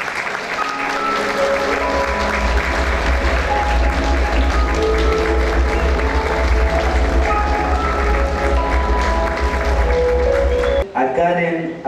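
Steady applause from an audience greeting a woman introduced at an evening event, sustained clapping mixed with music and a voice over it, cutting off abruptly near the end.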